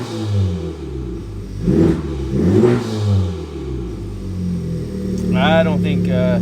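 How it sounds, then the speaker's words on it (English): A Honda Civic Type R with a boost leak revs in a few rising and falling bursts near the microphone, followed by a steadier engine tone with a person talking over it. "I don't think Keffy wanted me to rev it that much"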